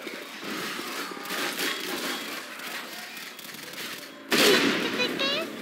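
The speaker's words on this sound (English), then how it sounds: "what an explosion." Gunfire and an explosion in the zombie shooter Left 4 Dead 2: dense rattling shots under game voices, then a sudden louder blast near the end.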